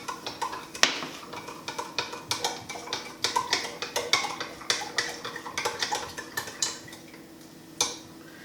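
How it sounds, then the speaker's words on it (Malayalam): A spoon stirs dry yeast into a homemade grape wine mixture, scraping and clinking against the container in a steady, repeated rhythm of sharp, close taps, with no voices. "അതിനുശേഷം ശരിക്ക് ഇളക്കുക."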